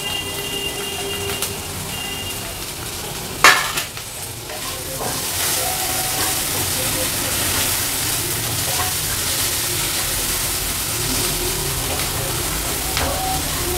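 Chopped onion fries in a pan with oil for a Bengali shrimp and kochur loti dish, giving a steady, close sizzle with one brief clatter of stirring early on; no talk.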